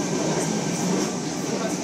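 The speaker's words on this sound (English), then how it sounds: "This train now leaving the platform." A dense, loud rushing roar of an electric commuter train pulling away from a platform at Rockdale, Sydney, smooth and continuous with no distinct beats.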